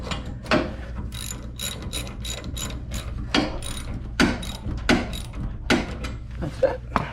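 A ratchet clicks in short bursts and single sharp clacks while tightening a garage door torsion spring, close up, with someone talking briefly between strokes.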